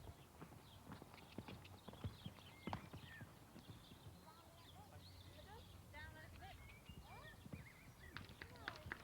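Horse hooves clip-clopping at a quick, running pace during a show jumping round at a competition, with a commentator talking over them and occasional thumps and neighs.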